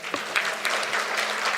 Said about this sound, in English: I think we can have some claps here.